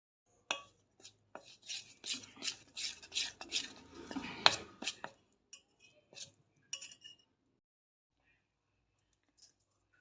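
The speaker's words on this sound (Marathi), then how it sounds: "आता हे चमच्यानं हे सर्व मिक्स करून पेस्ट करून घेते" A spoon stirs gram flour and water into a smooth paste for spring onion pithla, making close, quick scraping and clinking taps in short bursts for about seven seconds before falling quiet.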